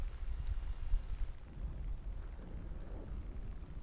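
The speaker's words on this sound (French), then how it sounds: "je vais mettre une petite frappe d'artillerie" Deep, rumbling booms of a War Thunder artillery strike roll together in a heavy low-end roar, fading slightly into a sustained rumble.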